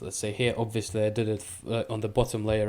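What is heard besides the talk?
No distinct noise like a dog, phone or traffic.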